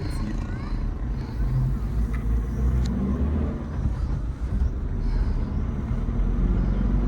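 Suzuki Jimny 4x4 on the road, a steady low engine rumble and road noise heard from inside the cabin, continuous and fairly loud with faint talk underneath.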